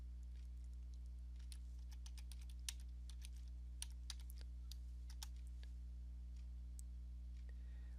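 Quiet, sporadic keystrokes on a computer keyboard tick over a steady low electrical hum, with scattered clicks and pauses between them.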